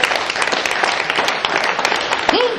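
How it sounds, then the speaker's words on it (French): A church congregation applauds and cheers for the women, dense sustained clapping filling the room with a voice rising briefly near the end. "Est-ce qu'on peut acclamer pour les femmes quand même?"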